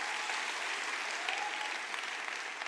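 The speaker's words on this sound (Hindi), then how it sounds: "मेजर साहब के लिए जोरदार तालियां।" Steady, dense audience applause fills a lecture hall during a motivational speech in Hindi, a continuous even wash of many hands clapping at moderate distance with no break.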